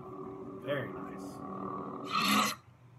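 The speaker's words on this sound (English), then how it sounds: "whenever you swing it, you got that little bass on the back end" A General Krell lightsaber sound font hums steadily, with two swing whooshes carrying a growling bass tail, one short and one longer, close and fairly quiet.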